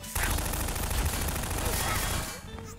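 Rapid, dense automatic turret gunfire in Garry's Mod with a Halo mod rattles continuously for a couple of seconds, loud and close, then cuts off abruptly.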